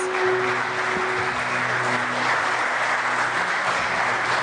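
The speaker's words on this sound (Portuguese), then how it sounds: "Aplaude o Senhor com força agora." A church congregation claps loudly and continuously during a worship service, a thick, even wash of applause with faint sustained musical tones underneath.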